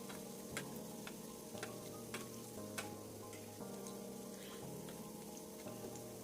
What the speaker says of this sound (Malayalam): ഒരു മീഡിയം ഫ്ലെയിമിലിട്ട് വേണം ഫ്രൈ ചെയ്തെടുക്കാൻ.